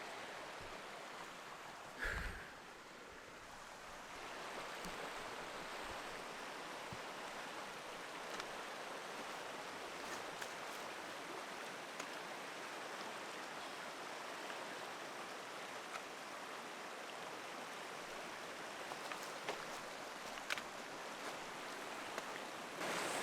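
Spring creek water on a backwoods hiking trail, a steady broadband rush close by that carries on without a break, with a brief knock early on and no voices.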